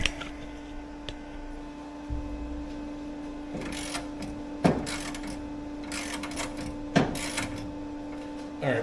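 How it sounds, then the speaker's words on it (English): A welder's cooling fan hums steadily in a garage during work on a 1957 Chevrolet Bel Air front suspension, a constant tonal drone under intermittent clunks and metallic handling noises nearby. "The fan gets a little loud after a while."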